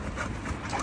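A dog pants steadily and close by in rapid breaths, over a dense noisy background.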